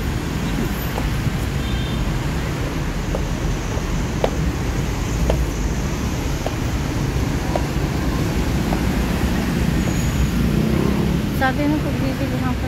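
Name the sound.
road traffic on EDSA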